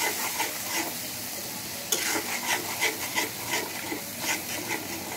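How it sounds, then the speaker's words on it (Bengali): Spice paste of chili powder, garlic paste and salt being stirred and fried in a pan, a steady close sizzle with rhythmic scraping strokes of the spoon, no talking. "আর মশলাটাকে সুন্দর করে কষিয়ে নেব।"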